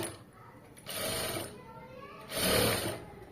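A sewing machine runs in two short bursts while stitching a blouse border, a quiet whirring hum starting and stopping, with someone speaking softly between the runs.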